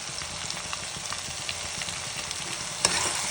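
Bottle gourd sabzi with amchur, crushed chili and coriander sizzles in a pan while being stirred, a continuous close frying hiss with light scraping taps and one louder clank near the end.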